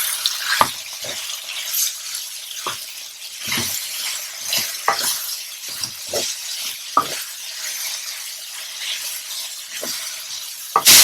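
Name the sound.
venison with cumin and spices cooking in pan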